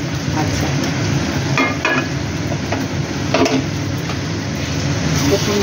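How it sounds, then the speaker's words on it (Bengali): Fried spice mix stirred into a pan of home-made chilli chicken, a steady loud sizzle with occasional scraping clinks of a spoon against the pan. "দেখুন বন্ধুরা, এই যে ভেজে রাখা মশলাটা আমি অ্যাড করলাম।"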